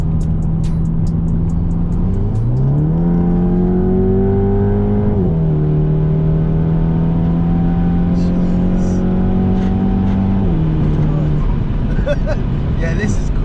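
A Stage 3 Skoda Octavia vRS with a DSG gearbox, tuned to 477 bhp and running map 1, pulls hard from inside the cabin, its engine drone rising through gear changes beneath loud, steady road roar.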